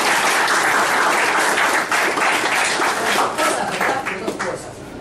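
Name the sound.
audience applauding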